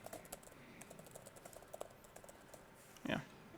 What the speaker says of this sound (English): The other thing about typing in front of a lot of people is that I type really, really fast when I'm alone.